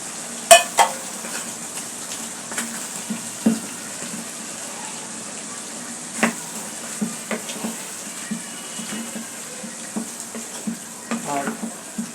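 Papaya stir-fry being stirred in a pan: a faint sizzle with a string of sharp clinks and scrapes of a spatula against the pan at irregular intervals, close by, with no talking.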